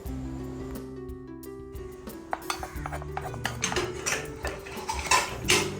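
A greased spatula clinks and scrapes against a metal pan while coconut barfi mixture is spread and set, irregular taps and scrapes growing busier over a low steady hum.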